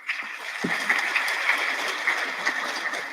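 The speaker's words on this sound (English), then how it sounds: "Please give him a round of applause." An audience applauding steadily at a book launch, a continuous patter of many hands clapping at moderate distance for a few seconds.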